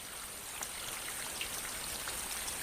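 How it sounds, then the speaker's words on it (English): Steady rain soaking hard, dry earth in the wild, a dense, even hiss of drops falling continuously with no voices. "The new rains soak the dry earth"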